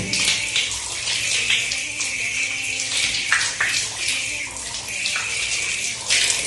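Tap water running steadily while arms are washed for ablution, a continuous close splashing gush with shifting flow as hands move under the stream.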